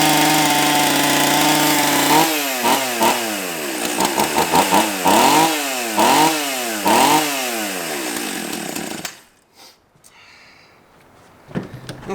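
A gasoline chainsaw runs at half throttle with the choke off, a loud close engine drone broken by repeated revving surges, then cutting out abruptly to near silence with a faint knock near the end.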